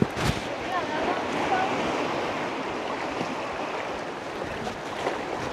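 Sea waves wash in steadily at Arambol Beach in Goa, a continuous broad rushing surge with some wind buffeting, heard up close.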